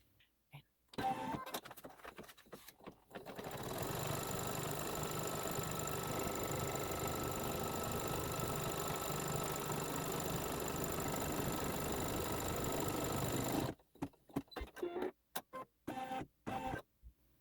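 A SweetPea embroidery machine stitching a Santa's Workshop quilt block, running in a steady mechanical whir for about ten seconds, framed by short bursts of stitching at the start and finish.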